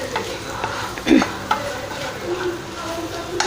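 Food sizzles and scrapes in a hot pan with oil as a spatula stir-fries it, coating it in masala, with a few sharp clanks against the metal, close by.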